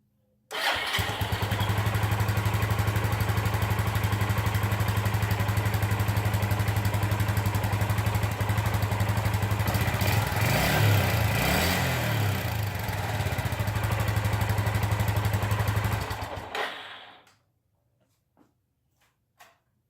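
A 2001 Suzuki GZ250 motorcycle, fresh from an oil and filter change, fires up close by and idles steadily for about sixteen seconds with a brief rev midway, then shuts off into silence.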